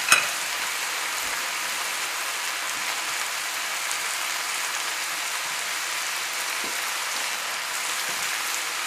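Spinach sizzling and frying in a big pot while turkey medallions and vegetables are sautéed, a steady close hiss like light rain with faint stirring clicks, no voices.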